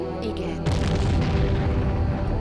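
Cannon fire in the Empire Earth multiplayer strategy game lands as a sudden deep boom that rolls on as a loud, rumbling explosion for the rest of the moment, with faint talk beforehand.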